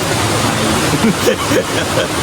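Mountain stream water at Ponmudi forest rushing over rocks in the rain, a loud, steady broadband wash close by with faint voices in the background.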